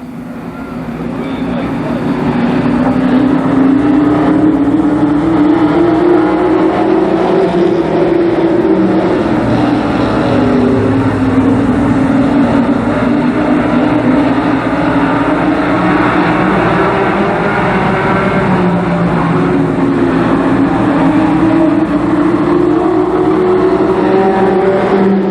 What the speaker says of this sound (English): Racing laps, the first limited sportsman heat race.